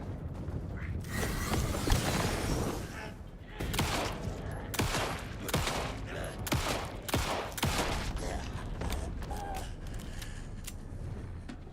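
Gunfire in the video game Alan Wake 2: a string of sharp, loud shots and clattering bursts at uneven intervals over mechanical clicks and a busy game background, with no talking.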